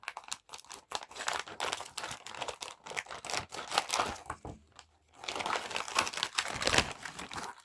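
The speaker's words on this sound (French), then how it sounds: "On va déballer ça." Packaging of a Ferrari 330 model kit crinkles and crunches close up as plastic and paper are unwrapped, in dense bursts with a brief pause midway.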